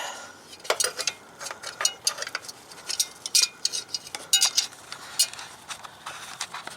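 A wrench works a crankshaft position sensor bolt on a 2000 Nissan Xterra, giving close, irregular metallic clicks and ratcheting ticks in quick bursts, fairly faint, with no talk.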